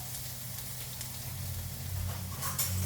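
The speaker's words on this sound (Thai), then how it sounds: "เจียวกระเทียมให้หอมหอมก่อนค่ะ" Garlic sizzles in oil in a pan over low heat, a close, even crackling hiss that runs throughout with a couple of light stirring clicks toward the end.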